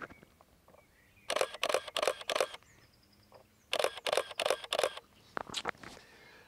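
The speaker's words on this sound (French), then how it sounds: "c'est de se mettre en mode rafale" A camera shutter fires in burst mode, two quick runs of about four or five rapid mechanical clicks each, close and crisp, separated by a short pause, with a few softer handling clicks after.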